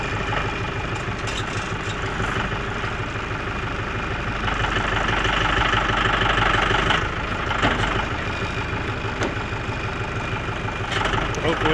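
Tractor engine running steadily while pulling logs off a Woodmizer sawmill, a throbbing mid-low idle with a rhythmic knock that swells slightly toward the end, with a voice talking over it.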